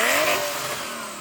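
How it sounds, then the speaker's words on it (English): A Porsche 911 Turbo of the 964 generation revs briefly, a single rising engine note that sounds close and fairly loud, then eases off over about a second. "let's hear the 964, rev that up"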